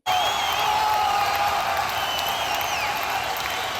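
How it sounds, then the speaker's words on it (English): Applause sound effect dropped into a podcast: a dense, steady wash of crowd clapping and cheering with whistle-like tones, loud and continuous for several seconds with no talk over it. "I'm going to give her a clap."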